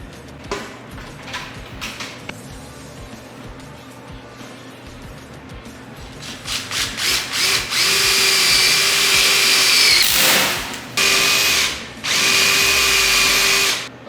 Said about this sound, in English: we'll take a grinder and clean that up a little bit